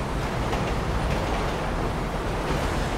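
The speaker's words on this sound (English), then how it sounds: "Train should be coming." A train rumbling past in a driving video game, a steady, loud broadband roar with heavy low-end rumble sustained throughout, no voices over it.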